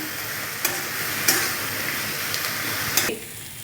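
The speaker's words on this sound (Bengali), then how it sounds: "এইভাবে সজনে ফুল ভাজা করবেন" Drumstick flowers frying in a pan, with a steady close sizzle and a few sharp scrapes and clinks of stirring spread across the clip, no voices.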